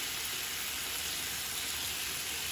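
Turkish kebabs sizzle and fry in a pan, giving an even, hissing crackle that stays constant and moderately quiet throughout, with no talk.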